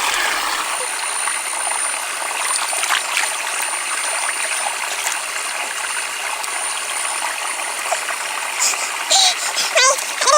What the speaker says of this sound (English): Rapid splashes. Hands move fast, catching them barehanded.